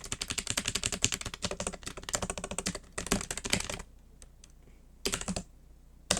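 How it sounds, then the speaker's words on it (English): Rapid, clacky keystrokes on a mechanical keyboard with red switches rattle out in a dense flurry, then stop, followed by a few isolated taps and a short final burst. "This is what my current keyboard sounds like."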